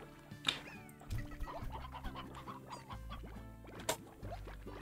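Rooster chickens in the Slime Rancher video game: a busy stretch of clucking, squawks and bird calls at close range, mixed with game music and sound effects, with no talk.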